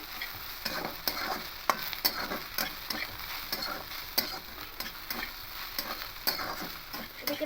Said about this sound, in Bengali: দু চামচ পোস্ত দিয়ে দেবো দিয়ে এটাকে আরও মিনিট দু তিন সেকেন্ড এভাবে ভাজতে থাকবে